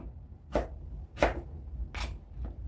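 A knife chops eggplant on a cutting board in four distinct, evenly spaced thuds, close and clear with no talking.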